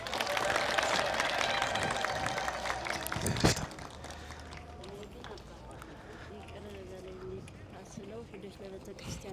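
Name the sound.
audience applauding in a church gathering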